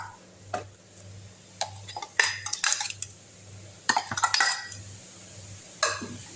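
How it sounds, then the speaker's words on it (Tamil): A ladle gently stirs black nightshade greens into cooked lentils in a pot, giving scattered metallic clinks and scrapes against the pot over a low steady background hum, with no talking. "கரண்டியில் லைட்டாக கலக்கினா போதும்"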